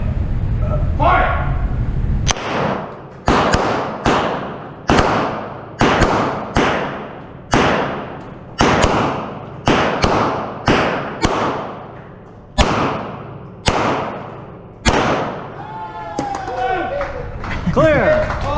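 Smith & Wesson M&P pistols converted to 9mm fire at a pin match, a rapid string of loud, sharp shots in steady rhythm over about fifteen seconds, with a voice calling out beforehand.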